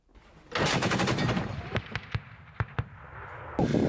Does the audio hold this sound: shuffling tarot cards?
no